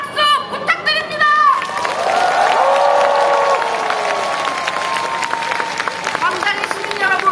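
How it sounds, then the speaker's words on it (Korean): A large outdoor crowd at a political rally in downtown Seoul claps and cheers in solidarity, a loud, sustained wash of applause with shouts and voices mixed in. "세월호 유가족들에게 힘찬 연대 박수 부탁드립니다"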